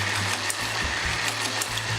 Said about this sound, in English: Now I'm going to whisk this cream a bit to a soft peak consistency